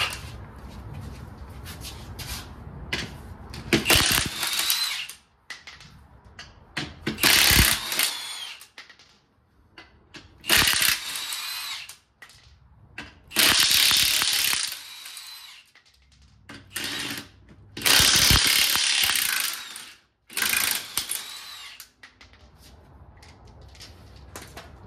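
Bursts from a power ratchet or impact tool working lug nuts off a jacked-up van's wheels, several loud whirring runs of a few seconds each separated by quieter pauses and clanks, close by with no talking.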